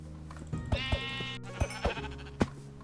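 Several short sheep bleats sound in quick succession, crisp and close, over a steady electronic background hum of Minecraft game audio.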